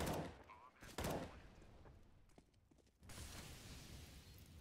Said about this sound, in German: Da ist schon wieder der erste AWP-Schuss und trifft instant.